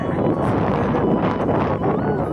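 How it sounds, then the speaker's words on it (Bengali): Strong wind blowing across a village before a storm, a loud, rough, steady roar of gusts buffeting the microphone. "মানে এত হাওয়া দিচ্ছে"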